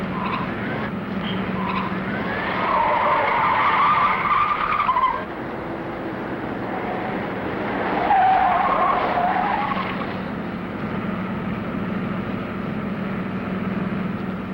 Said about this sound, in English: Intercept 2 speeding cars headed east, now being followed by police car number 34.